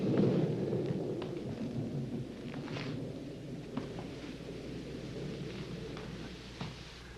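Low, rolling thunder from a passing storm rumbles in a broad, steady wash, heaviest at the start and fading slightly, with faint crackles and no talking.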